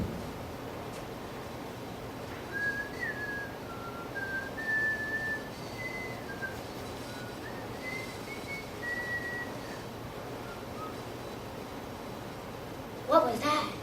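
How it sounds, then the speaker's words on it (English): A person whistles a thin, wandering melody in short, sliding notes for several seconds, fairly faint over a soft steady background, ending with a brief noisy rustle. "I can whistle without looking like I'm whistling."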